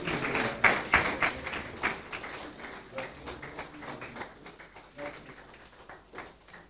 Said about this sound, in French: nous allons nous lever et l'applaudir encore plus fort